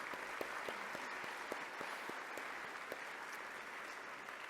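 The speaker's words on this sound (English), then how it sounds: "I think we should clap for Carl." Applause at an award ceremony: an audience claps steadily and continuously, a dense even patter from many hands at moderate distance.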